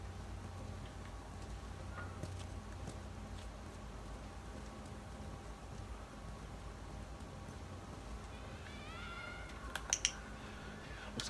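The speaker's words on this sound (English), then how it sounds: "Nebby the cat stopped meowing." A domestic cat meows faintly indoors a few times near the end, high wavering cries over a continuous hiss and low hum.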